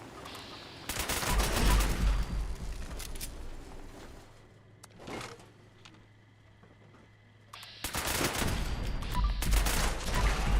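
Bursts of gunfire from Fallout 76, loud rapid volleys at the start and again near the end, with a lone shot and a quieter lull between.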